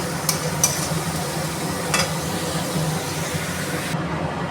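Spice paste fries in oil with a steady close sizzle, broken by a few short scraping stirs, with no voices.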